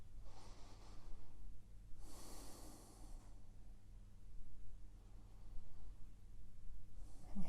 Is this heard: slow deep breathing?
yes